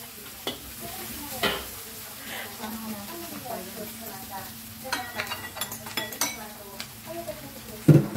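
Cereal prawns frying in a pan over a high flame, with steady sizzling, stirring and occasional clinks of a utensil against the pan. Some background voices are heard.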